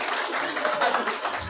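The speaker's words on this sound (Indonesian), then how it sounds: "Tepuk tanganlah kalian" An audience at a plantation workers' gathering in Riau applauds, dense continuous clapping throughout, loud and near, with voices mixed in.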